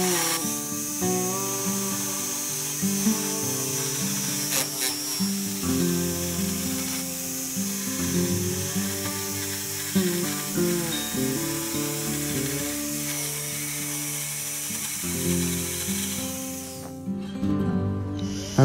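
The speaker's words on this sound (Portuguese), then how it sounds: "E para fazer isso, nós utilizamos uma serra tico-tico." A jigsaw cutting a wooden toy trolley piece: a steady, buzzing, rattling whir with a wavering pitch that runs for most of the stretch and then stops abruptly near the end, with music playing along.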